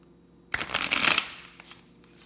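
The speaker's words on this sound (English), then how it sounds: "These cards are so stiff, I can barely shuffle them" Stiff tarot cards riffled in one quick shuffle, crisp papery flutter rising and ending with a few light taps, close and alone.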